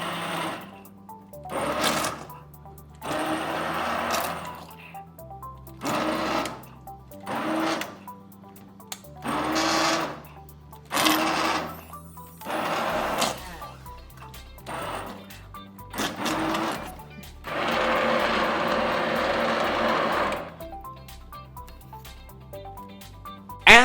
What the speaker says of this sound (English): carefully blend it with your immersion blender